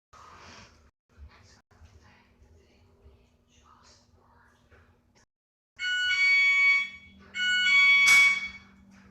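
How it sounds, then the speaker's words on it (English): A home motion detector alarm sounds in two loud, close bursts of shrill electronic beeping, each lasting about a second or two, following quiet breathy speech in an otherwise still room. "That's my motion detector, in case you're wondering."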